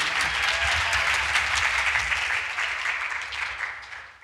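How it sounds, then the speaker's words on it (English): Audience applause after a student musicians' group performance, a dense steady wash of many hands clapping that fades slightly toward the end. "Here's a round of applause."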